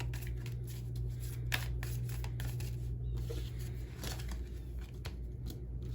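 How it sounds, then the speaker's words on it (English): Tarot cards are shuffled in quick, rustling bursts and riffles, close up, with soft flicks and snaps at an irregular rhythm. "So first, we are going to shuffle your cards."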